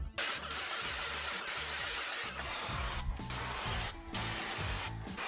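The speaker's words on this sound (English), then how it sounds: "When we spray on the Aquron CPSP" Aquron CPSP waterproofing being sprayed onto the vertical walls of a pool, a steady close hiss that runs almost unbroken, with brief dips and a low rhythmic mechanical chugging beneath.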